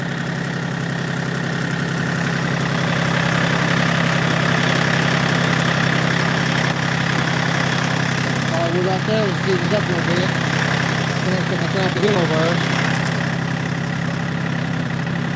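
A diesel engine idles with a steady, close, rumbling drone that runs throughout, while someone talks over it.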